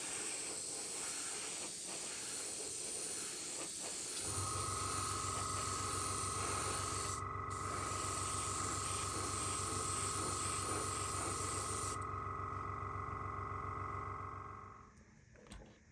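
Airbrush spraying grey paint onto a GWR O gauge model box van kit, a steady close hiss with a low hum underneath running almost unbroken, then stopping near the end.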